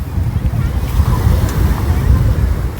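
Sea waves crash and wash against a damaged stretch of shore, a steady loud roar of surf mixed with heavy wind noise on the microphone.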